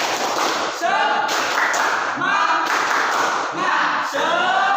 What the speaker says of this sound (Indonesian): Silakan, tepuk semangat dulu, biar kita terus semangat.